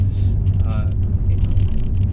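A BMW M4 cruises through town, its low engine and road rumble steady and close throughout, with someone talking over it.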